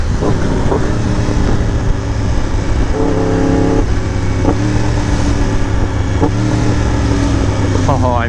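BMW S1000RR and Yamaha R1M sport motorcycles ride together with a steady, loud engine roar and wind noise throughout, rising revs and gear shifts audible near the end, with a voice talking over it.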